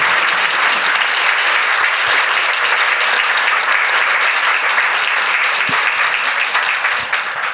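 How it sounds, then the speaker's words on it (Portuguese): An audience at a literary festival panel at a Jewish museum applauds for Bernardo with dense, sustained clapping that holds loud and even throughout before tapering at the end. "peço palmas aqui ao Bernardo também"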